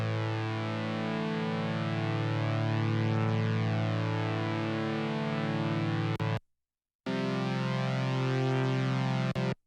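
A Moog Sirin synthesizer holds a sustained suspended-fourth chord built from layered, pitch-shifted recordings, a thick buzzy drone with slowly shifting, chorus-like beating. It cuts out briefly near the end, then resumes.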